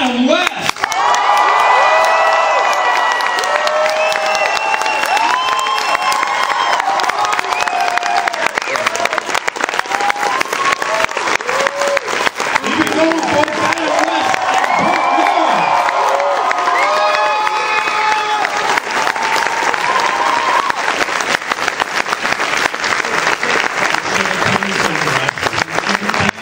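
A large convention crowd at New York Comic Con cheers and applauds for Adam West, with loud continuous clapping and whoops filling the hall and staying dense throughout.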